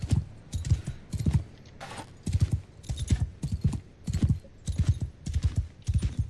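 Horse hooves clatter in a steady galloping rhythm in Mount and Blade II: Bannerlord, close and continuous with an artificial, game-like quality and no talk.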